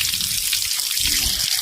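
A tap at an ashram runs continuously as hands are washed under it, a close, steady splashing rush of water throughout.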